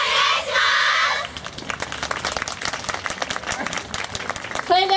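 An audience claps steadily in rhythm at a Yosakoi dance performance by a women's team at an Osaka Bay Area festival, and music or cheering swells up near the end.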